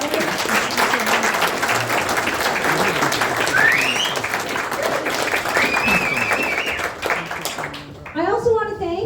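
Audience applause for a speaker at a People's Party of Canada evening gathering, a loud, continuous roar of clapping with cheers and a whistle, ending abruptly as a voice begins speaking.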